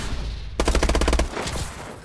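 Rapid automatic gunfire crackles in Call of Duty: Advanced Warfare, a loud burst of about a dozen close shots in quick succession, then a fading echo.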